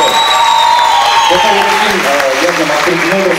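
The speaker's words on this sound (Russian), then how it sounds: "ваши бурные аплодисменты" Audience applause fills a KVN comedy show hall, a steady dense clatter of clapping that carries on throughout, with a host's voice talking over it.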